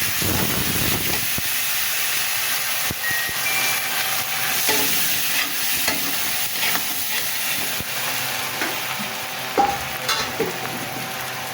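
Onion goes into hot oil with cumin, dry chilli and bay leaf, giving a loud, close hiss and sizzle. Stirring scrapes and clicks recur, and a few sharper sputters stand out near the end.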